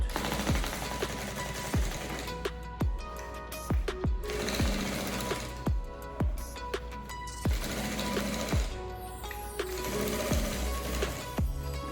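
Sewing machine stitching a lining into a simple handmade bag, running in short, loud bursts of rapid mechanical clatter separated by brief pauses.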